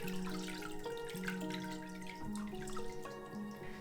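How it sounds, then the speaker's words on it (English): Water drains and drips from a papermaking mold and deckle lifted from a vat of recycled paper pulp, a soft steady trickle with scattered drips, fairly quiet and without talk. "While the water strains out, I make sure to move the frame around to spread out the pulp evenly."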